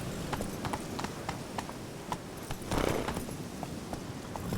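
Roach, Geralt's horse in The Witcher 3, trotting along with a brisk, regular patter of hoof clip-clops up close, and a brief louder rustle of movement midway.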